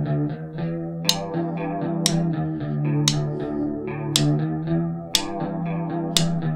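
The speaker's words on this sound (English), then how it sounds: "let's hear that little drum intro in context" Drums playing the intro of a song within the full band recording, with crashes struck about once a second over a dense, chorus-heavy guitar and bass, loud and continuous with no talking.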